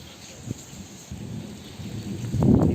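Heavy first monsoon rain falls in Konkan with a low thunder rumble building toward the end, a steady hiss of rain punctuated by a short crack early on.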